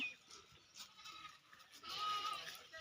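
Faint sheep bleats rise from a flock in the background over steady outdoor hiss, with one clearer bleat near the end.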